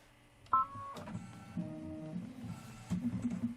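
A home embroidery machine stitches out a lobster design on a beach-themed bench pillow block, giving a steady mechanical hum with a clicking start and rhythmic needle pulses near the end, close and moderately loud.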